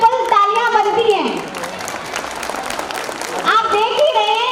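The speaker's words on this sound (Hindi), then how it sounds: "तो इनके लिए तो डबल ट्रिपल तालियां बनती हैं।" An audience at a school annual day applauds the nursery class, a burst of clapping that swells in the middle. A voice speaks through the start and end.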